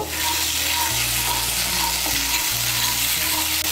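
Ginger paste thinned with a little water being stirred in a hot pan for a vegetarian chal potol dish, with steady loud sizzling frying and scraping stir strokes throughout, no voices.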